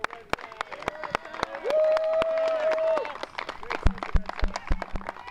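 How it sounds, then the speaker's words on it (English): Applause for a Little League baseball team at a town championship game, with scattered claps and crowd noise building under a sustained voice, then a few sharp, loud claps near the end. "I'd like to give a round of applause to the Red Sox."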